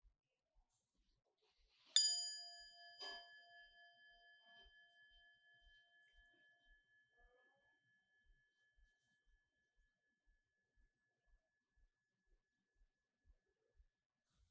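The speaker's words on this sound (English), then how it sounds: "listen to the bell and see if you can mark the precise moment when you can no longer hear the bell, when it decays" A bell is struck once, sharply, then a softer second stroke follows, and the bright ringing tone slowly decays into near silence, leaving only faint, regular ticks in a quiet room.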